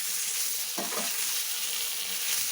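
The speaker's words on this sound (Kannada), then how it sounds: "ಇದನ್ನು ಹಾಗೆ ಟೊಮೆಟೊ ಸಾಫ್ಟ್ ಆಗೋವರೆಗೂ ಇದನ್ನು ಫ್ರೈ ಮಾಡ್ಕೊಂಡ್ಬರೋಣ" Tomatoes fry in a pan for sprouted horse gram sambar, a steady close sizzle running throughout with a brief stir of the pan near the start; no voices.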